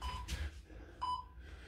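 A countdown timer for a school PE workout gives two short electronic beeps about three quarters of a second apart, each clear and moderately loud over a low background hum.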